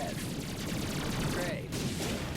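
Gunfire from a Blarg dropship in the Ratchet & Clank PS4 game (2016), a dense continuous fusillade of shots running close and loud throughout the short stretch.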